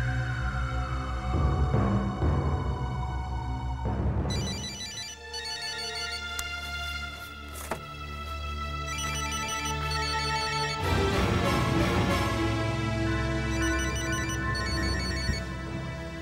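A telephone rings with an electronic ringtone melody that repeats in loud, sustained bursts, with a tonal sweep at the start, close and clear with no talking over it.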